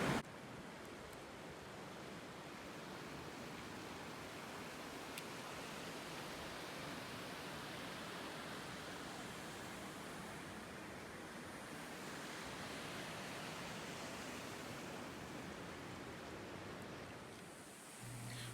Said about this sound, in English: We've made it to the Colorado River.